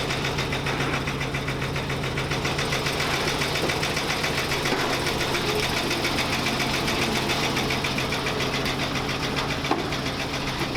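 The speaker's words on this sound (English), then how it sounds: "Never mind the rod knock." A swapped truck engine idles steadily with a three-on-the-tree column shift, its rod knock ticking rhythmically under a continuous loud mechanical drone throughout, close by with no talking.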